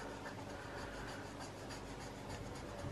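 Colouring in a small mitten drawing, a faint, steady scratching of a pencil or marker rubbing across paper, close and quiet with no talking.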